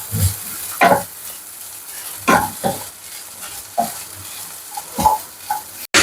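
Chicken coated in soy sauce masala stirred in a hot pan for a spicy chicken roll, several distinct scraping stirs with a soft sizzle between them, close and clear with no voices.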